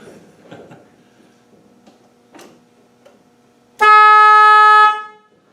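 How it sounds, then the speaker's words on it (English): A Land Rover 300Tdi horn sounds once with the ignition on, a loud, steady blast of about a second after a few faint clicks and taps. "when I turn the ignition on, we should have the horn"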